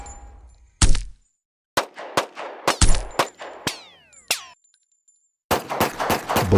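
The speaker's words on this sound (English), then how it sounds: "unleashing a barrage of gunfire" Rapid bursts of gunfire crack out in irregular clusters, loud and close, with short pauses between volleys and a final dense flurry of shots.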